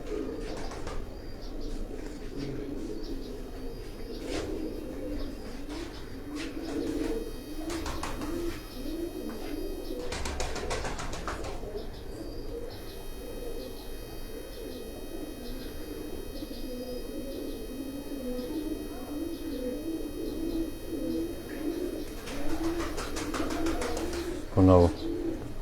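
Pigeons coo steadily on a rooftop in Jalalpur Bhattian, a continuous low, throaty burble close by, with occasional chirps and a brief flutter near the end.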